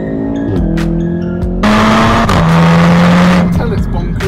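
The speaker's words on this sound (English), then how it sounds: "Once you've found an open road, as I have now, you can put it back into race mode, drop it down through the gears." A Volkswagen hot hatch in race mode drops down through the gears and accelerates on an open road, engine pitch jumping with each downshift and then building into a loud sustained roar, while someone speaks over it.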